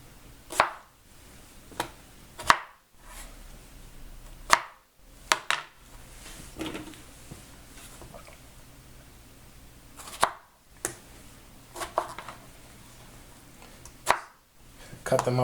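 A knife chops vegetables for a tomato and onion salsa on a board, with sharp isolated thuds spaced a second or two apart against a quiet room, close and crisp.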